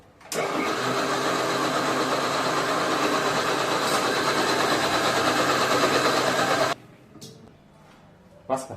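A kitchen mixer blending juice with milk and sugar, running loud and steady for several seconds before cutting off abruptly, followed by quieter handling noises and a few knocks.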